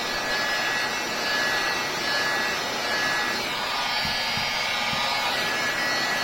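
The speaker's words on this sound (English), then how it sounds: "Hair dryer could take like 10 minutes to warm up." A hair dryer blows with a steady, loud whooshing whine throughout, used to warm a Xiaomi Black Shark phone during a screen replacement, with a few faint knocks near the end.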